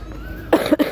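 A woman coughs from a winter cold, a quick cluster of two or three harsh, close coughs after a quiet moment, with no speech.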